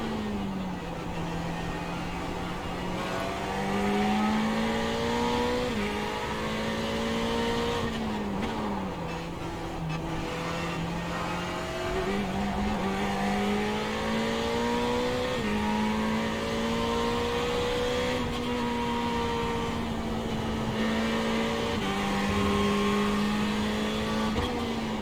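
A Ferrari race car engine roars at Watkins Glen in a racing video game, holding a loud, steady high-revving drone with gear-change dips and rises while chasing in the slipstream.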